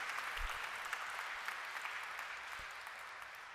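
A church congregation claps after a homily, with steady, continuous applause from a crowd in a reverberant hall, heard alone and at moderate distance.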